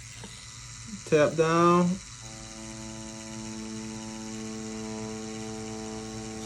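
A tattoo machine fitted with a round shader needle runs as a steady, even electric buzz through most of the stretch, with a man's brief spoken instruction breaking in near the start.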